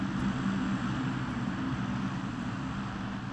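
An airdrop airplane in the shooter game Arena Breakout Infinite makes a steady, low droning engine rumble as it flies over, even and sustained without talking.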